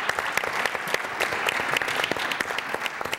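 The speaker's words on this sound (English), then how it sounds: "can we give another round of applause for Barbara?" An audience applauds Barbara at a technology event on transforming DC into a technology capital, with dense, steady clapping and a few sharper individual claps standing out throughout.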